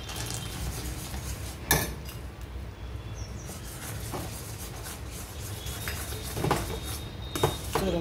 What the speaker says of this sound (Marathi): शेंगदाणे घालून घेते मी।